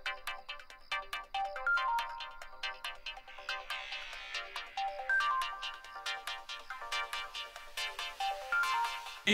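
A mobile phone ringtone plays a repeating melodic tune for the whole stretch, loud and close, with no talking over it, in a quiet room at night.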